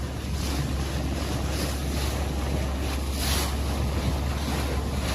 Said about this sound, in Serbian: Vetar duva.